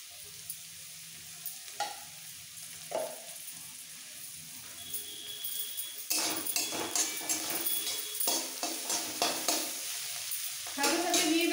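Vegetables stir-fry in a hot pan for homemade egg chowmein, a continuous sizzle broken by scraping stirs that grows louder and denser toward the end.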